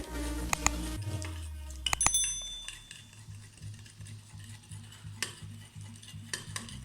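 Chicken being stirred by hand or spoon into a ginger garlic paste and lemon juice marinade for Pakistani BBQ, with soft wet squelching, a few clinks against the bowl and steady rhythmic mixing close by.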